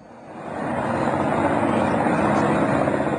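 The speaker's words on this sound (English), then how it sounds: "Marine One, the presidential helicopter, out on the lawn at the Chateau Montebello in rural Quebec." Marine One, the presidential helicopter, runs on a lawn at a rural Quebec chateau, its steady loud rotor and turbine roar building quickly and then holding near and constant.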